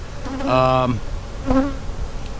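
Honeybees buzz around a nuc hive, two close, loud droning passes with a steady harmonic hum, the first longer and the second briefer, over a quiet background.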